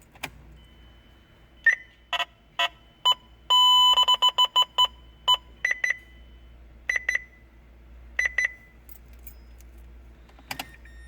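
A hardwired radar detector with flush-mounted controls in a car sounds a run of sharp electronic beeps and chirps, some single, some in fast bursts, loud and close with no talk.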